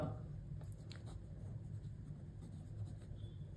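A pen scratches across paper while a maths problem is worked out, soft and close, with faint intermittent strokes over a low room hum and no talking.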